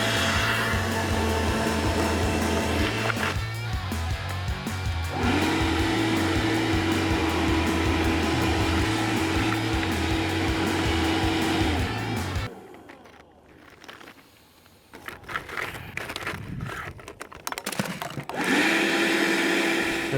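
A leaf blower rebuilt as an egg cannon runs on a test firing with a loud, steady motor roar. The roar dips and sputters briefly partway through, then spins back up to full power.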